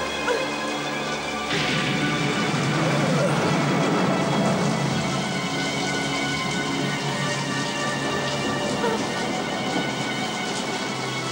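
Steady rain pours outdoors in a tense night scene, a dense continuous hiss filling the whole stretch, with faint background sounds mixed in and no clear voices.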